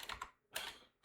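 A few quick keystrokes on a computer keyboard, close and quiet, in two short bursts of clicks with a gap between them.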